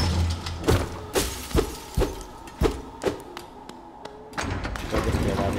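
Crystals breaking in the video game Hollow Knight, a series of sharp shattering cracks and thuds at an uneven rhythm, fairly close, with soft background game ambience and talk.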